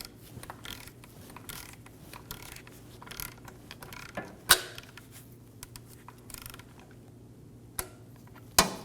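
A ratchet snugging down the center nut on a 2008-2015 Scion xB neutral safety switch: soft, quiet clicking strokes with a few sharper metallic clacks, heard close-up and alone.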